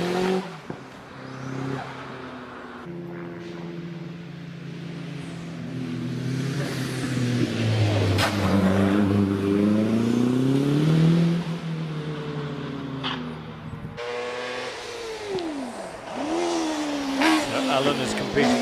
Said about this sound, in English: it's basically Mitsubishi Evo on a space frame, and it is very quick